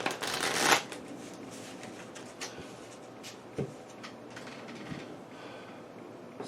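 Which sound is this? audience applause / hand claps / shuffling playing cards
shuffling playing cards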